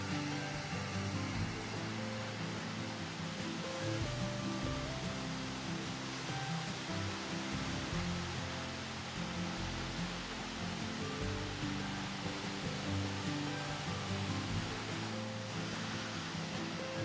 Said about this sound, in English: Here we have the first view of the falls, which is 142 feet drop waterfall.